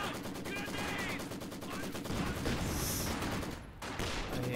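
A Maxim machine gun fires a steady, rapid rattle against grenadiers in a strategy video game, joined by battle noise and a sharp burst, while a commentator talks over it.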